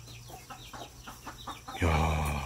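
Chickens, including green-egg-laying birds, give a rapid run of short clucks in a rural coop in Daema-myeon, Yeonggwang, South Korea, before a louder burst of flapping and scuffling takes over.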